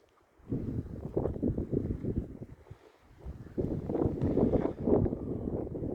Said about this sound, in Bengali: ঠান্ডা হিমেল হাওয়া আছে।